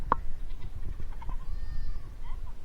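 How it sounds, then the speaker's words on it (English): Goats upset after being banded bleat on a farm, one sharp cry near the start followed by fainter scattered bleats over steady background noise. "today banding goats, and boy, we got them upset with us right now"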